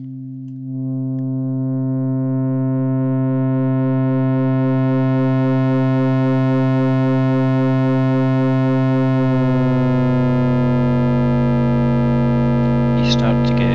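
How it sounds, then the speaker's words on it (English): Two steady sine tones sound together while harmonic distortion is gradually increased, so the pure hum grows into a buzzier, harsher, overtone-rich drone that swells louder and rougher toward the end. "as we increase the distortion,"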